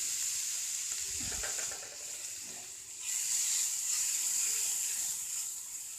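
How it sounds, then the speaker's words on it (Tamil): Grated beetroot frying in a pan gives a steady, soft sizzle. Brief stirring scrapes come near the start, and the hiss grows louder partway through. "இப்போது அதே பேனில் பீட்ரூட்டை போட்டு நல்லா வறுத்து எடுத்துக்கலாம்."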